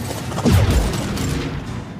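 Heavy gunfire in the video game Mass Effect 2, a loud, dense, rumbling barrage with booming low impacts and mechanical rattling that stays continuous throughout.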